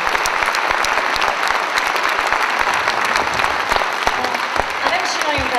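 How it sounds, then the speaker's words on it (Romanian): Loud, close applause from a crowd at a children's Mărțișor concert in 2012, dense, even clapping throughout with no pauses. "aplaude pentru Mihai și pentru Andrei"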